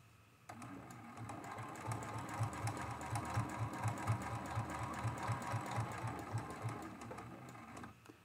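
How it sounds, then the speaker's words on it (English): Domestic sewing machine stitching free motion quilting with polyester quilting thread, a steady close rhythmic needle hum that starts abruptly and runs continuously, pulsing evenly before stopping near the end. "when I free motion quilt or draw with my sewing machine"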